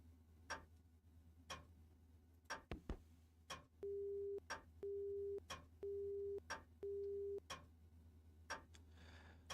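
In the Fate/stay night video game, a phone busy tone sounds as four evenly spaced steady beeps, faint, over a regular clock ticking.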